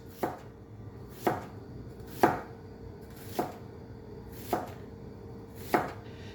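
A knife chops down through a large onion on a board in six crisp, evenly spaced cuts, about one per second, each a sharp close thud with nothing else heard.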